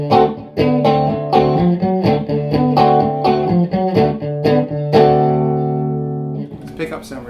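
Electric guitar, a double-cut Danocaster nicknamed Blackie, played clean on the combined bridge and middle pickups: strummed chords ring out one after another at close range, letting the last chord sustain and fade before a few quick final strokes.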